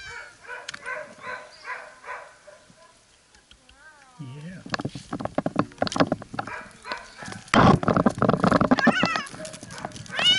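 A cat stuck in a tree meows in short repeated cries, first faint and distant, then closer and louder amid rustling, handling noises and people talking.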